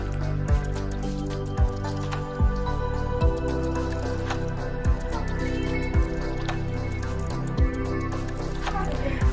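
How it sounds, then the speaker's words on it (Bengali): Shelled green peas washed in a bowl of water, with repeated wet sloshes and squelches at a loose rhythm and some drips and clatter, close and fairly loud. "মটরশুঁটিগুলো সব ছাড়ানো হয়ে গেছে, এবার আমি জল দিয়ে ধুয়ে নিচ্ছি ভালোভাবে।"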